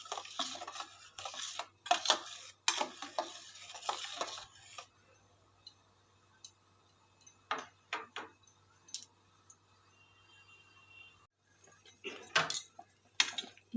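Melted soap base and neem leaf paste stirred in a pot, a spoon scraping and clinking against the sides in irregular bursts with quiet pauses between, close by and fairly soft.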